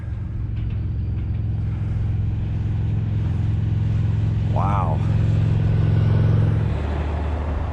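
A heavy garbage truck rumbles past with a deep, sustained engine drone that cuts off near the end, while a voice briefly exclaims over it.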